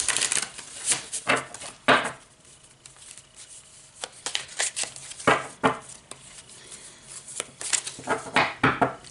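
Tarot cards being shuffled by hand in repeated bursts of crisp riffling and flicking, fairly close and moderately quiet, with short pauses between shuffles and no talking.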